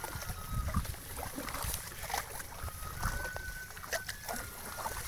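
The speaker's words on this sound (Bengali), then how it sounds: "এভাবে নৌকা হালকা করে অল্প অল্প করে নৌকা ঠেলে ঠেলে জালগুলো লাগায়" A small wooden boat is pushed slowly through shallow village water while fishing nets are set, with soft splashes and water sloshing, moderately close, and faint background noise but no clear talk.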